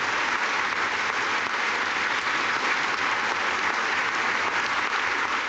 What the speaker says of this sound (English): There are a lot of women clapping who aren't wearing makeup in this crowd